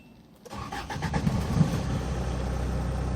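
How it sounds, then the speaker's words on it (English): A white Kia Bongo III 4WD truck starts up after a short starter crank, then its engine settles into a loud, steady idle nearby with no talk. "Let's start the engine."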